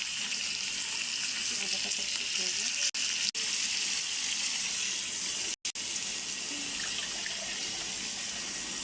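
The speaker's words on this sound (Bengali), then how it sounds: "হালকা একটু পানি দিয়ে দিই।" A little water goes into a frying pan of pangas fish curry, raising a loud, steady, close hiss and sizzle that continues throughout, cut by a few very brief dropouts.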